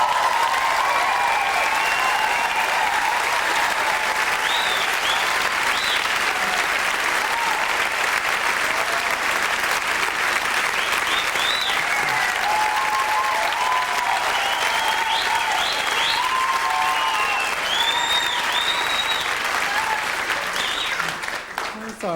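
Theatre audience applauding to welcome pianist Russell Churney, a sustained dense wash of clapping from a large crowd that holds steady and then begins to thin at the end.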